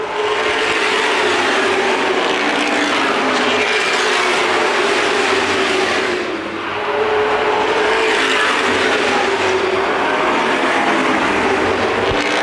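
Late model race cars roar around Winchester Speedway in a SuperPro Late Models championship race, a loud, continuous engine drone that swells and dips slightly as cars pass, with no talk over it.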